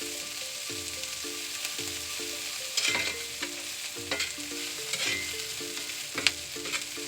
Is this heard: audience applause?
no